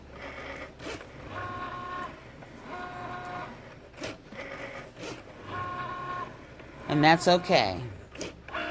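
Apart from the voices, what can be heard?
Cricut machine cutting 2x2 circles for price tags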